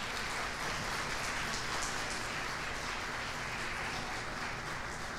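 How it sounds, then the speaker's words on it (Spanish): Steady, dense applause from an audience at a monthly members' meeting, filling the whole stretch evenly without any talk over it. "Un aplauso, por favor."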